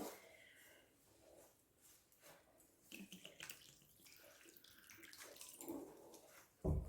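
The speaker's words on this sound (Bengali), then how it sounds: "খুব অল্প জল দিলাম তার কারণ চিনিটা গলে গেলে তখন নরম হয়ে যাবে" Water is splashed in a short pour into sugar in a pan for fried cookies, a soft close trickle and splash that fades quickly.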